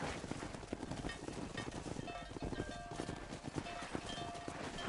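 Horse hooves trot at a steady pace inside a busy, dense game soundscape, with other noises and music filling the background.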